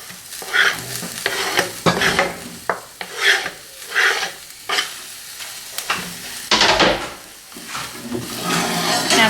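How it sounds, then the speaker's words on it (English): Sliced onions sautéing in olive oil: a close, loud sizzle broken by repeated rhythmic scraping and stirring strokes of a utensil across the pan, with no talking. "I'm going to put my sliced onions in there, and I'm going to saute them"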